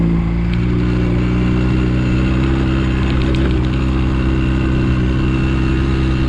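A motorcycle engine hums loudly and steadily up close while riding through the gears, a constant droning rumble with little change in pitch and no talking.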